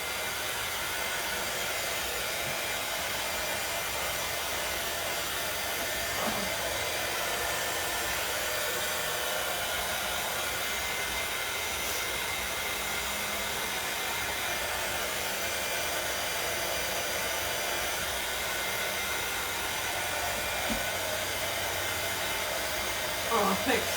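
A hair dryer blows steadily to dry paint or glue on a pumpkin craft made from wooden craft sticks, a continuous close whooshing hum lasting throughout with only faint background sounds.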